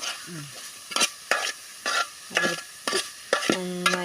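A spoon scrapes and turns snake gourd and prawn thoran in a pan, a series of distinct close stirring strokes in an uneven rhythm over a faint, soft sizzle, with no talking.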